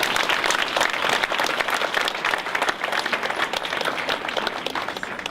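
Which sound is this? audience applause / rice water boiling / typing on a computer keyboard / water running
audience applause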